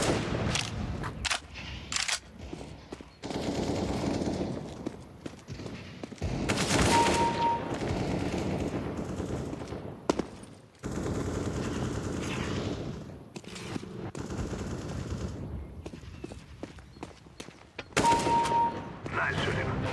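Bursts of gunfire in Counter-Strike 2, clustered volleys and rapid shots recurring through the stretch, loud and close, with a player talking over parts of it.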